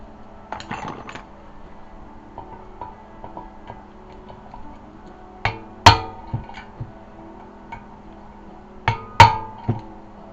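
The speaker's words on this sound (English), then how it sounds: "I just lightly tap these back on." Light hammer taps on Honda Civic front wheel hub parts ring out in short sharp strikes, a few spaced clusters with small metallic clinks between them, close and clear.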